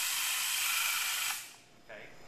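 Graco Pro Shot airless sprayer spraying water, a loud steady high hiss for about a second and a half that cuts off, followed by a fainter brief spray burst.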